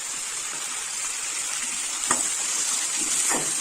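Tomatoes sautéing in a pan while making horse gram (kollu) chutney, a steady soft sizzle running throughout with a couple of brief scraping stirs near the end.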